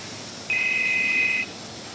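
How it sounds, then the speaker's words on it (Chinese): A mobile phone rings: a single steady electronic tone lasting about a second, clear and fairly loud over a low background hiss. "手机响了。"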